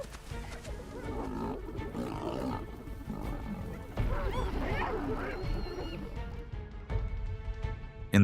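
Lions on the African grasslands give deep, rumbling roars and growls, several overlapping calls rising and falling close by over about eight seconds, louder bursts near the middle and end.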